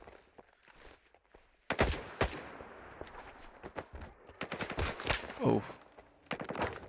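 Gunfire rings out in S.T.A.L.K.E.R. 2 during a fight with bandits, with dense clusters of sharp shots and bursts over a few seconds, punctuated by footsteps and a brief exclamation.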